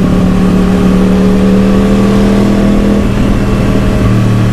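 A KTM motorcycle accelerating along a busy road, its engine droning steadily and loudly close to the microphone with a constant whirring hum.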